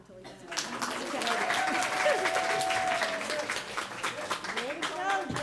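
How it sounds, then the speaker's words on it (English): An audience at an award ceremony for an elementary school editorial winner breaks into sustained applause, with many hands clapping steadily, voices and cheers mixed in. "Keep clapping until he gets it."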